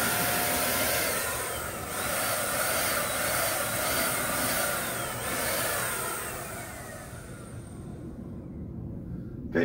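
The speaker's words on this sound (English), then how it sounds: "sometimes I just tilt the sprayer" A paint sprayer hisses in a steady, loud, close spray while coating furniture, holding constant for several seconds before cutting off near the end.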